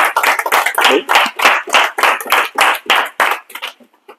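A church congregation claps in unison, about a dozen loud, evenly spaced claps in a steady rhythm that breaks off at the end, with no talking.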